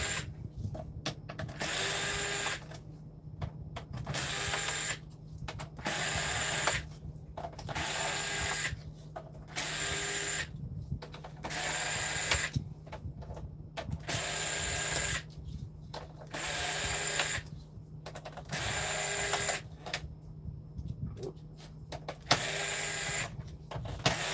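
Screws being driven out of the plate of a PS5 console with a power driver, short whirring bursts repeating in a steady on-off rhythm over roughly two dozen seconds, close and fairly loud, with a low steady hum underneath.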